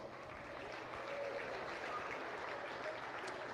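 Applause from the audience at a county fair livestock show arena, a steady, moderately loud wash of clapping lasting a few seconds with faint crowd noise beneath.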